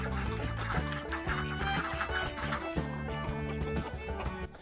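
Escaped farm chickens cluck steadily and fairly close over a busy outdoor background, with no talk.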